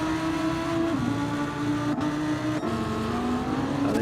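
Race cars in a Gran Turismo 7 league race at Circuit Gilles Villeneuve howl continuously. Engine pitch climbs steadily, with two sharp gear-change dips, and a second car's engine runs alongside as one car overtakes. The engines are loud and steady, and nobody speaks.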